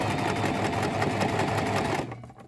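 A sewing machine runs steadily in rapid stitching, a loud continuous mechanical whir that cuts off near the end and fades.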